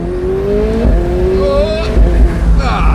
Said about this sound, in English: the turbo whistle and the exhaust